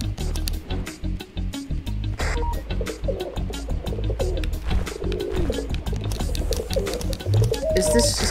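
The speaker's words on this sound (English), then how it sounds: "Good pigeon noises? I'm glad you approve." Pigeon cooing from the video game The Godfeather, soft repeated coos over a busy game soundscape with chopping percussive music, while a person talks intermittently.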